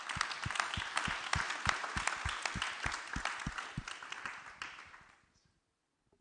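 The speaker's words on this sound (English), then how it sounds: "So round of applause." Applause from a conference audience after an investment panel, with dense clapping and a few sharp, steady claps standing out, fading away toward the end into near silence.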